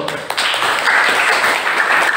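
A classroom group applauds a correct answer, a short burst of brisk, fairly loud clapping that continues steadily to the end.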